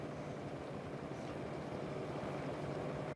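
A helicopter flies over the route of a Vuelta a España 2018 road-cycling stage, giving a loud, steady broadband rotor and engine roar that holds for the full few seconds with no voices.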